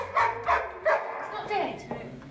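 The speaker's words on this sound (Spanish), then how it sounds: "vamos a ver este momento en el que un perro comienza a llorar o parece que lo está haciendo" A dog cries and whimpers in a series of short, high, wavering yelps and whines, about five close-up bursts in quick succession.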